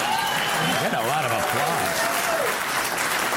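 An audience bursts into sustained applause, a thick wash of clapping that runs throughout while a voice speaks over the top.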